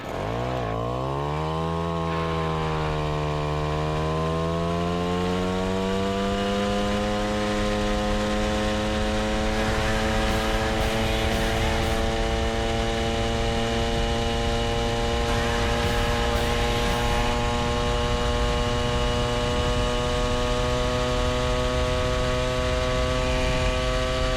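An MBK 40V moped with a derestricted Cobra exhaust revs and accelerates on a cold day, its high, buzzing two-stroke whine climbing steeply and then holding a loud, steady pitch throughout.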